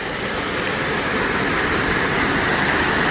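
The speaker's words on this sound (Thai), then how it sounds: "ตอนนี้น้ำไหลแล้วครับ" Steady rushing water flows loudly and continuously through a channel outdoors, a broad wash of noise with no voices over it.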